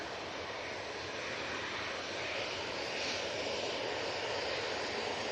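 An Emirates Airbus A380 passes overhead near Manchester Airport, its engines a broad, steady roar that holds loud and even throughout, slightly building toward the end.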